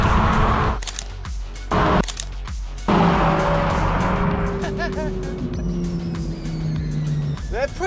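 A 2022 Honda Civic Si and a Toyota GR86 drag race, engines roaring with rising gear pulls, choppy wind buffeting and a car sweeping past.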